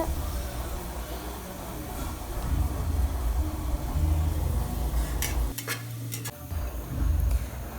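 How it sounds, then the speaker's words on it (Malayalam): Onions fry in hot oil for ghee rice while a spoon stirs them against the pan, giving a soft sizzle and scraping. A few sharp metallic clinks stand out near the end. "എണ്ണ ചൂടായി വന്നാൽ നമുക്ക് ഇനി നന്നായിട്ട് ഇളക്കി കൊടുക്കുക കരിഞ്ഞു പോകാൻ പാടില്ല"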